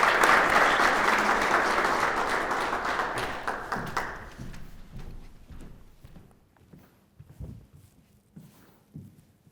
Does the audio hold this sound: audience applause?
yes